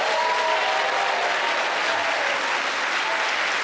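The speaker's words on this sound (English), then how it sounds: "you guys can applaud that, definitely." Town hall audience in Orangeburg, South Carolina applauding steadily throughout, a dense, loud wash of clapping from a crowd that holds at even strength for the full length.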